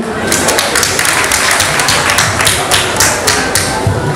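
An audience at an investiture ceremony in Duékoué applauds loudly and steadily, a dense close wash of many hands clapping with faint voices mixed in.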